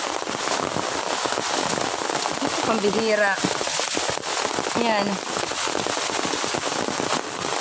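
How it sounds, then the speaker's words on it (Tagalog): Very heavy rain falls in a loud, dense roar throughout, mixed with sharp crackling spatters, while a person speaks briefly twice over it. "Super lakas ng ulan ngayon."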